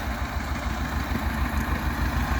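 A GNOM-2000 tractor fitted with a T-25's D-21 diesel engine runs steadily nearby, a loud low throbbing idle with a rough, even chug and no talking.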